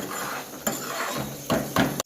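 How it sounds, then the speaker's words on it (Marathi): Plates and metal dishes clattered as thalis are laid out in a Kolhapur dhaba kitchen: several sharp clinks and knocks over a steady kitchen hum, close by, no talk. "तिकडे ताटं पण लावायला चालू आहे"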